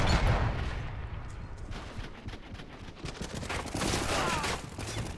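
Dual pistols firing in the video game Xenophobia 2, dense rapid shots blending into a continuous loud barrage with no break across the whole stretch.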